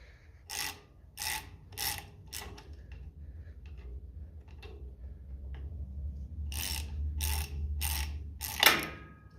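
Throttle linkage on a 1957 Ferguson FE35 TVO tractor being tightened by hand with a ratcheting tool, a few short close metallic clicks and rasps, a quiet pause, then another quick run of clicks ending in a sharper scrape.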